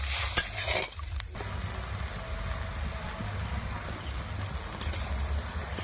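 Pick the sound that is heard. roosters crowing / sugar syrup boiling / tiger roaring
sugar syrup boiling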